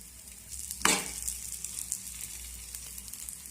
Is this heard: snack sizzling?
yes